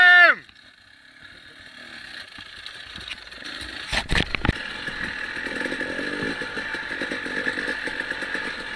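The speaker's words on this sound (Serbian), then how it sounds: "Minja, parkiraj motor na stup." A motorcycle on Suva Planina mountain gives a short, loud engine rev that drops away in the first moment, followed by a steady rumbling and clattering drone nearby.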